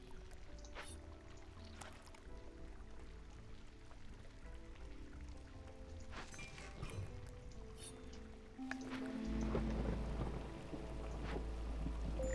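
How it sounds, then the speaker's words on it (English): A video game storm in Gopher Gold brings steady rain hiss with low thunder rumbles swelling louder toward the end, continuous and without talk. "Storm starts about now."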